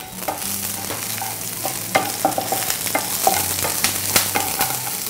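Curry leaves and dried chillies sizzle in hot frying oil for a tempering for coconut kadala curry. A steady loud crackle runs throughout, broken by soft clicks of stirring.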